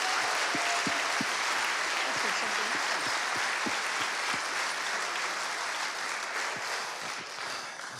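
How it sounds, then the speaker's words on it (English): An audience at a Tuba Christmas concert applauds steadily, a dense wash of clapping that holds for several seconds and then begins to thin slightly at the end. "So can we give them a round of applause for all their work?"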